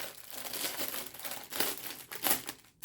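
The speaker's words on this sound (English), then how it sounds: "It comes in plastic, a plastic bag that I will be reusing also." Plastic packaging bag crinkling and rustling while a reusable period pad is unboxed, a steady close stream of crackly handling noise with a few louder bursts and no talking.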